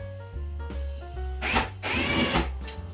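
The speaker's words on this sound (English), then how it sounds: "drill it from this way so we don't get tear out" A power drill with a pilot bit hums and revs in short pulses, then bites into the wood of a door with a rough grinding rasp, loud and close.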